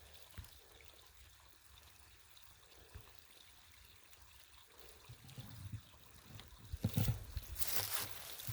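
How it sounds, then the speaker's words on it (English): Quiet running water of a creek trickles and babbles in the background, growing a bit louder and splashier toward the end. "aside from the creek running right here"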